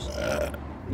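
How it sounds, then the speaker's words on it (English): A single loud, rough burp fills nearly a second, close up and heard alone. "Burps, burps."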